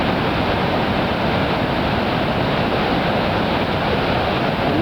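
Strong, steady rush of high river water along the Tuolumne River near a footbridge at Glen Aulin, a loud broadband roar that stays constant throughout with no voices.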